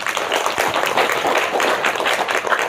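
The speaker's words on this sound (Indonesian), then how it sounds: "Coba tepuk tangan dulu." An audience claps together at a religious lecture in Indonesia, a loud, continuous patter of many hands close by, fairly even from start to finish.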